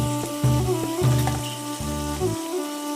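Spice masala frying and being worked in a pan for Bengali chicken roast, a steady sizzle under repeated clanking spoon strokes and a low background hum.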